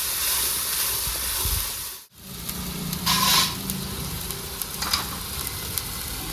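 Very hot oil sizzling and hissing in a pan with black cumin seeds, close and continuous, cutting out briefly before resuming with stirring and scraping and a few pops.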